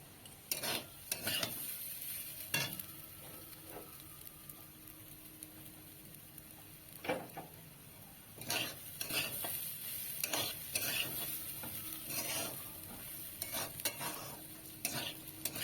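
Bhuna khichuri being stirred in ghee in a pan in a home kitchen, with a quiet sizzle under intermittent spatula scrapes and clinks against the pan, some clustered in quick bursts, fairly faint overall.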